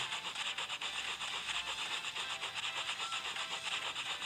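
A scratch card is rubbed off in an Android scratch-card game. A continuous dry, raspy scraping texture repeats in quick even strokes, faint and close, with no talking.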